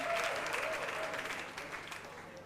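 A crowd at a school cooking competition final claps enthusiastically, a dense, lively burst of applause with scattered cheers that slowly eases off toward the end.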